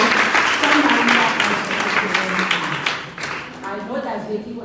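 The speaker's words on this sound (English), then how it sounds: "we must give all of the women a hand of applause" An audience at a feminist lecture series event claps steadily, loud and dense throughout, easing slightly toward the end.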